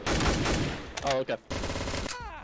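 Gunfire in Prehistoric Among Us: dense rapid shots, loud and close, broken by brief gaps, with game sounds and a short spoken voice mixed in.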